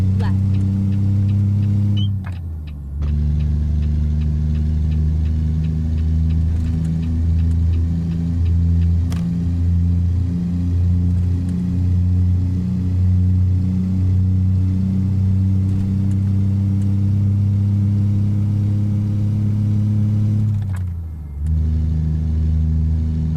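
A heavy truck engine in American Truck Simulator drones loud and low, revving up through gear changes with brief dips as it shifts, while someone talks over it.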